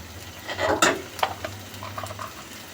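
Paneer tossed with ginger garlic paste in a hot pan, close bursts of scraping and stirring over a continuous low sizzle, several distinct strokes with no talking.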